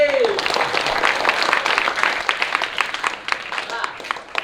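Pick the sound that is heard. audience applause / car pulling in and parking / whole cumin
audience applause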